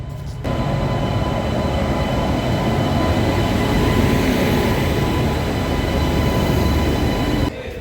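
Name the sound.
railway station with train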